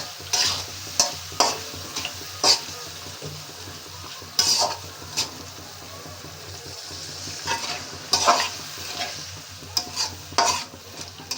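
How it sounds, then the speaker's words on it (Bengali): Potatoes and tomatoes fry with ginger-garlic paste and cumin in a pan, a steady low sizzle broken by frequent sharp scraping stirs and spoon knocks against the metal. "সব কিছু এখন একসাথে আলু আর টমেটোর সাথে একটু ভাজা ভাজা করে নিয়ে"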